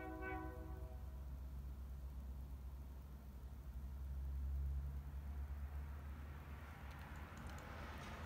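A train passes a block from a home, its horn sounding in a brief chord at the start before a long, steady rumble of rolling cars fills the rest, fairly distant, with no one speaking.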